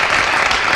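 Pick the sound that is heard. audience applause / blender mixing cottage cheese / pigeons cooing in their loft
audience applause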